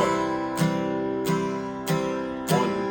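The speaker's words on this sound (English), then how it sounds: "If we do it in simple quarter notes, it's going to sound like this." Four evenly spaced strummed guitar chords ring out, each sustaining until the next in a slow, steady beat.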